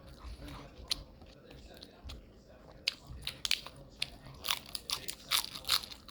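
Crunchy bites of fresh lettuce eaten alongside fried pork chops, close crisp crunches coming in quick irregular bursts that grow denser toward the end, with faint background murmur.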